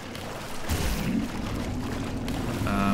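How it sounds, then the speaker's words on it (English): Water pours steadily in the Portal 2 video game, a soft continuous rushing flow that swells after a moment and runs on without pause. "It's water, I think."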